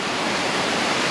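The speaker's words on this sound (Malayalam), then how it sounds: "2ആം വെള്ളച്ചാട്ടമാണിത്" Steady roaring rush of water from the second waterfall at Thusharagiri on a Wayanad trekking trail, a dense continuous broadband wash close by with no voices over it.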